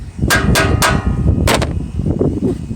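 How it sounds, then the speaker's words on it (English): Three sharp metallic strikes of a hammer on a screwdriver in quick succession, then a pause and two more close together, loud and near over a steady background rumble, during maintenance on a Husqvarna Z254 zero-turn mower. "When all else fails, break out the hammer and screwdriver."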